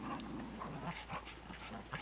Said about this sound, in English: She's a very jealous little dog.